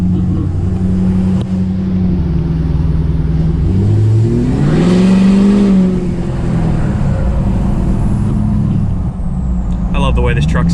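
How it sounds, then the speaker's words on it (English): Gasser-style custom truck engine pushed to full throttle while driving, a loud sustained mechanical drone that rises in pitch as it revs up then settles back, heard from inside the cab with windows down. "we're gonna give her a little full throttle action for a second."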